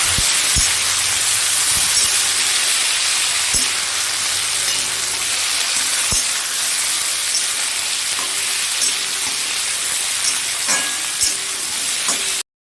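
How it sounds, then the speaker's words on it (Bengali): Chopped tomato fries in a pan of reddened potatoes for aloo chochhori, a loud continuous close sizzle with occasional sharp scraping and tapping from stirring, no voices. "এরপরে আমি টমেটোটা দিয়ে দিচ্ছি। এটা দিয়ে এটা একটু নেড়ে চেড়ে নেড়ে তারপরে আমি মশলাটা দেবো।"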